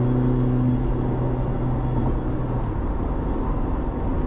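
A Mazda Miata's engine drones steadily while driving on an asphalt road, a loud continuous low rumble with road noise heard from inside the car.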